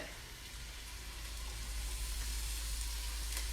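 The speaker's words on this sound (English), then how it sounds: "And these are going to grill for probably 8 minutes." Tacos sizzle on a grill with a steady, continuous crackle over a low rumble, holding an even level throughout.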